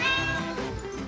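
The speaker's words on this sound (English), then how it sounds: "Talkative cats are the best." A cat lets out one drawn-out meow, close and clear, lasting about a second with no other voices around it.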